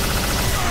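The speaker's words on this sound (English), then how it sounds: "Proton cannon!" Iron Man's proton cannon attack in the fighting game Marvel vs Capcom, a dense, loud burst of blasting noise that fills the whole short moment with continuous crackling energy.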